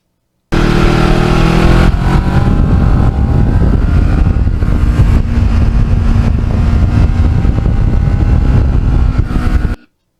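A restored Kawasaki Ninja twin-cylinder motorcycle with carbon fiber parts idles and revs close by, a loud, smooth low throbbing engine note with a slight rise in pitch, running steadily for about nine seconds before cutting off.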